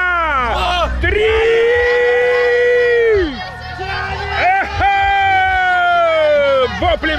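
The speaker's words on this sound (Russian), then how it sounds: "Воплями кельтов" Team members in a tug-of-war contest scream and yell loudly and continuously, long sustained shouts of a crowd rising and falling together, with brief whoops and cheers breaking in between.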